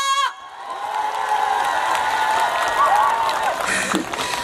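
A crowd at an outdoor ceremony opening a Hanaro Mart store claps and cheers for a performing singer. The sound swells quickly into loud, sustained applause mixed with shouts and whoops from children and adults.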